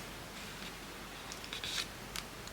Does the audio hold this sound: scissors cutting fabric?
yes